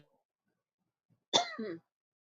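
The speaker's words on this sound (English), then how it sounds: "Made me cough." A single close cough rings out in an otherwise quiet room, short and throaty, with a brief rasping tail.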